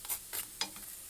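Pickled mustard green cakes made with all-purpose flour fry in a pan, golden on both sides, with a faint background sizzle broken by three short, soft scraping or stirring strokes.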